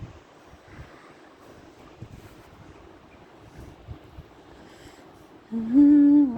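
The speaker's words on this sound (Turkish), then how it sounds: "rüzgar işte esiyor" Wind rumbles and buffets the microphone in low gusts, then a short, loud tonal whine rises at the very end.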